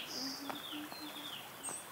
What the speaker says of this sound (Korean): 징검다리의 새소리.